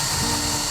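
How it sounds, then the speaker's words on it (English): A power drill bores pilot holes into a wooden ledger board, a steady whining motor drone running without a break through the short moment, fairly loud and close. "Drill some pilot holes into the ledger."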